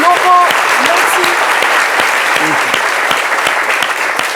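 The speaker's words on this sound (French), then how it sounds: "On applaudit très fort pour Laurent Motti." Studio audience applause on a French midday TV talk show: dense, sustained clapping at close range and steady loudness from start to finish.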